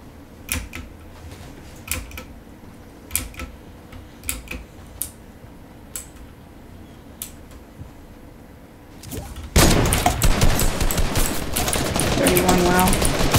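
Gunfire in a shooting video game: a scatter of sharp, separate shots crack out over a low background, then a dense, loud barrage of continuous fire takes over for the last few seconds.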